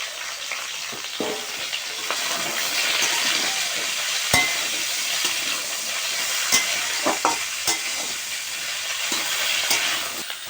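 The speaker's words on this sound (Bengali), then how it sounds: "একটু নেড়ে চুড়ে একটু ঢেকে দেবো" Papaya, potato and beans for shukto sizzle and fry steadily in a pan while being stirred, a close continuous hiss broken by occasional clinks and scrapes of the spatula.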